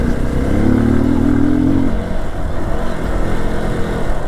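An off-road motorcycle overtakes on a rough, potholed mountain road in Himachal Pradesh. A loud, steady engine drone rises briefly as it passes, over continuous close rumble and clatter with no voices.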